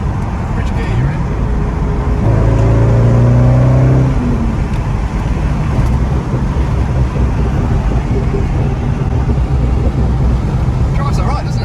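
A Corvette C5 with a manual gearbox and LS1 V8 driving on the road, its loud steady engine drone and road roar filling the cabin, rising in pitch briefly as it pulls, with people talking over it.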